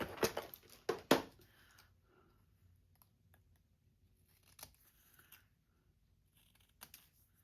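Scissors trimming time card pockets, with a few sharp, close snips at the start followed by faint, sparse clicks and rustles of paper.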